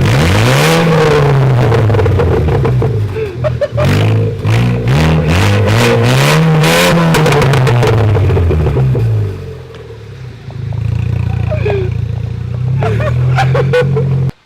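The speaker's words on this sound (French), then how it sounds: "Du coup, la voiture, elle fait un bruit de porc." A loud, raw car engine with a detached exhaust roars and revs repeatedly with a harsh, unmuffled rasp, dipping briefly to a rough idle before revving again and cutting off.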